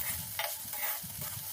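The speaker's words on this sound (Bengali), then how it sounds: "মুগ ডালটা দিয়ে আরও ভালো করে নেড়েচেড়ে ভেজে নিতে হবে" Mung dal being stirred and fried in a pan, soft scraping strokes over a steady gentle sizzle, close and quiet.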